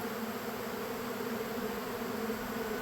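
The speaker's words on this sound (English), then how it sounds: "I've got a lot of hungry bees" Honey bees swarm over spilled honey outdoors, a dense, steady buzzing hum of many insects that fills the whole stretch at moderate volume, with no voices.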